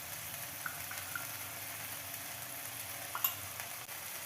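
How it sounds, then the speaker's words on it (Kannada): Harive soppu (amaranth greens) curry with salt and chili frying and being stirred in a home kitchen pan: a faint, steady low sizzle with occasional soft scrapes and clicks, no talking. "ಇದೆಲ್ಲ ಚೆನ್ನಾಗಿ ಇನ್ನೇನು ಫ್ರೈ ಮಾಡ್ತೀನಿ"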